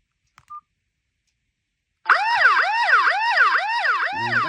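A red panic button on an emergency alarm unit sets off a loud, continuous wailing siren that sweeps up and down in steady cycles, preceded by a brief beep and a short pause of silence.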